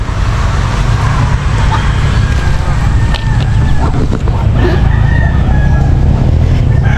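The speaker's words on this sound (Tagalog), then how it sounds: "Yung manok." Chickens cluck and a rooster crows amid a constant low rumble of passing traffic, the bird calls fairly faint against the background.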